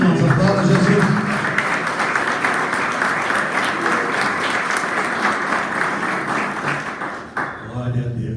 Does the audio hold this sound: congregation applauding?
yes